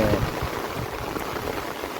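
A loud downpour of heavy rain drums on a village farmyard in Gujarat, a thick, unbroken roar of water hitting the ground, close and steady throughout.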